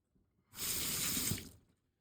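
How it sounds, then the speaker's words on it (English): Water runs from a tap while a greasy, varnished engine part from an OS Gemini 120 engine is scrubbed clean; a steady rush of water for about a second, with no talk. "So we'll give it a scrub and see what it's like."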